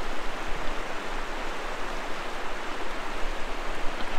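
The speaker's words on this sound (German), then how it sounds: "der Fluss ist recht hochwasserlastig" A floodwater-swollen river at a German gold-panning gathering rushes in a steady, broadband roar, close and continuous with no pauses or voices.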